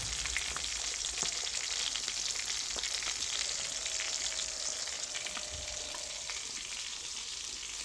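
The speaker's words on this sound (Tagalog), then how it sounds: "ako po'y nag-prito ng daing na bangus" Marinated milkfish, daing na bangus, sizzles steadily in hot oil in a pan, a dense, constant crackling hiss with occasional pops, close and without speech.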